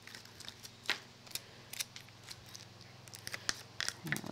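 Scissors snip through paper card while trimming pieces for a handmade Christmas shaker snow globe card, with a series of quiet, close, crisp cuts spaced irregularly and no talking.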